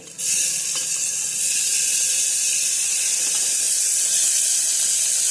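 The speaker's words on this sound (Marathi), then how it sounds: "टोमॅटो चांगले परतून घ्यायचेत आपल्याला" Finely chopped tomatoes hit hot oil in a pan and sauté for South Indian rava upma and rasam, giving a loud, steady broadband sizzle that rises sharply at the start and holds without pause.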